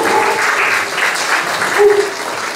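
Audience applause at a kindergarten anniversary celebration, a steady clatter of many clapping hands with voices faintly mixed in.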